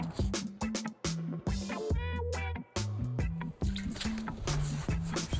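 Water squishes and drips while a filthy window sill is scrubbed clean, wet rhythmic wiping and splashing strokes close by with brief pauses between them.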